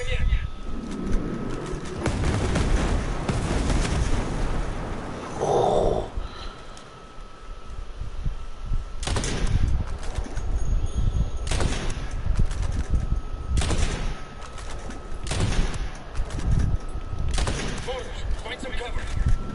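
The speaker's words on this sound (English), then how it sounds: "Mortar fire coming in." Incoming mortar fire in a Ghost Recon game: several loud, sharp explosive blasts and bursts of gunfire land at irregular intervals, mixed with shouting and talk throughout.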